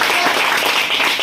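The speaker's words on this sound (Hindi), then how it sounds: "आप लोगों से जोरदार ताली बजाएं" An audience at a business seminar in Virar, Mumbai claps loudly and continuously, a dense, even wash of applause for a company founder.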